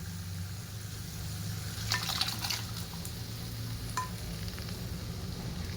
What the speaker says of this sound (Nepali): अब यसमा हाल्दै छु म राजमा।